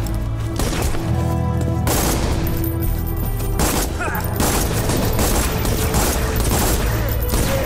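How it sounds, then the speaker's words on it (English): Rapid SMG fire in the video game Borderlands, loud dense bursts of shots continuing almost without pause, with booms and impacts mixed into the barrage. "Not a bad little SMG."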